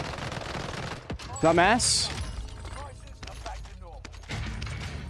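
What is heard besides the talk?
gunfire in the video game Call of Duty Warzone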